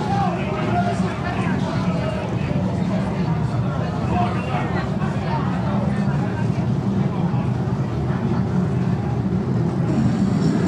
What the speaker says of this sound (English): So the green flag drops, Speak is away